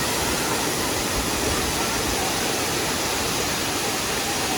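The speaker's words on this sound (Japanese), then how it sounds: "滝の音が大きくなってきました。" A loud, constant roar of a waterfall in southern Thailand fills the scene, dense and unbroken from start to finish.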